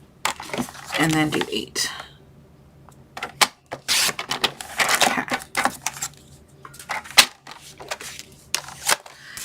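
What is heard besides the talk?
cutting paper for a craft box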